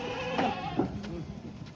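Kathiawadi goats at a sale give two short bleats close by, one strained and wavering, against a steady murmur of crowd noise.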